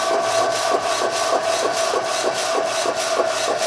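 A Procolored K13 lite printer running with a rhythmic, evenly paced mechanical shuttling and rubbing sound, close and steady, with no speech.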